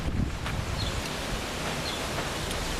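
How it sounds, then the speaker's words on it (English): Steady outdoor wind blowing across the microphone, a broad continuous rush with low rumbling buffets, moderately loud and with no talking. "Got a little wind coming."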